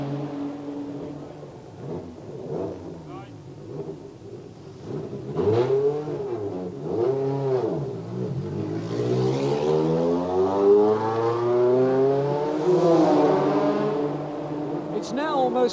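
A Tiga-Ford sports prototype at the 1985 Le Mans 24-hour race pulls away, its engine revving in rising bursts that climb into a long sustained wail before easing off.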